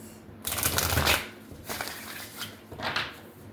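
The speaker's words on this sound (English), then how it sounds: "Let's shuffle." Cards are riffled and shuffled up close, a fast fluttering burst followed by two softer, shorter shuffles.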